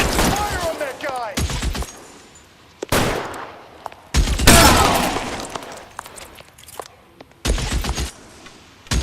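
Gunfire in the 1940s Los Angeles crime game L.A. Noire, with loud bursts of shots in separate clusters, some with breaking glass, separated by quieter gaps holding game voices.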